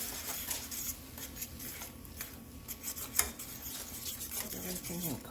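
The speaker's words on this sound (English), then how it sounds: "We're going to just start stirring this up." A spoon stirs a sticky corn syrup mixture in a pot, giving soft scraping and clinking strokes with one sharper knock near the middle, close and fairly quiet, with no voices.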